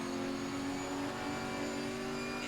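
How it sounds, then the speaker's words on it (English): A GT4 race car engine in the video game Assetto Corsa Competizione whines at high revs, a steady, buzzing drone that holds its pitch with slight rises, moderately loud and without talk. "each of the cars has their own individual engine sounds"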